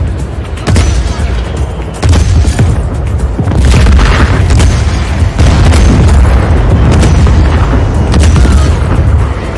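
Loud, dense gunfire and deep booms fill a Just Cause 4 battle during a sandstorm, with rapid bursts over a constant rumbling roar.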